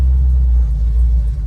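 The 351 Cleveland V8 of a 1973 Ford Mustang Mach 1 idles with a loud, deep, steady rumble close by, and nobody speaks over it.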